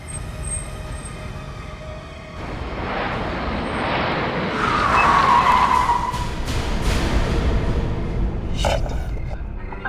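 A car breaks down on the road and grinds to a halt, a loud rushing, skidding roar that swells and then settles, with no talking.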